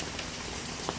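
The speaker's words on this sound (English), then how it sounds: "it's been raining steadily for a good 20 minutes now." Steady rain falling during a June storm, a dense continuous patter of drops on hard surfaces, moderately quiet with a few slightly louder drips standing out.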